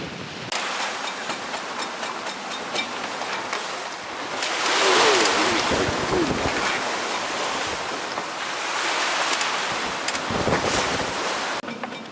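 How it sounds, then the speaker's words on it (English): Wind roars and waves rush around a sailboat running under jib on a very broad reach at about 7 knots in 26 knots of wind and rolling seas; the wash swells and fades loudly, with no talking. "running under the jib at the moment on a very broad reach, doing about 7 knots, and it's very rolly"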